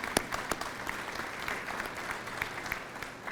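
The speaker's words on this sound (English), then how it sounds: "so how about a round of applause for them as well." Audience applause at the opening of a new museum exhibit at Colorado Springs Airport, a steady patter of many hands clapping at moderate distance, fairly quiet and unbroken.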